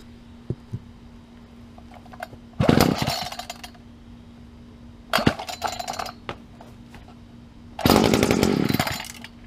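A Lawn-Boy string trimmer engine, started on choke, bursts into three loud, rough revving spells between quieter stretches of low idle hum and small clicks.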